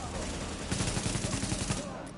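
Rapid automatic gunfire from the video game The Division, a dense burst of quick repeated shots lasting about a second amid steady game noise, with a faint voice in the background.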